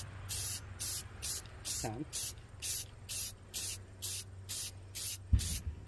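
White aerosol spray paint is applied over a PowerWash tumbler in about a dozen evenly spaced hissing bursts, close and fairly loud, with a single brief spoken word partway through.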